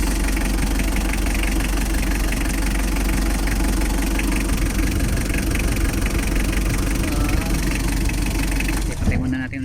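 A Mitsubishi L3 engine with weak oil pressure runs with a loud, continuous rough idle and a persistent knocking clatter, then cuts out abruptly near the end.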